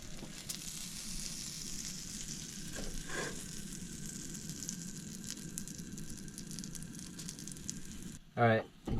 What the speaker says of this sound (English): Toast our bread up.